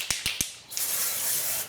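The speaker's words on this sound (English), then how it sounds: "the nozzle sounds a little strange to me" A Volvo LifePaint reflective spray can gives three quick clicks of its nozzle, then releases a steady, close hiss of spray lasting about a second.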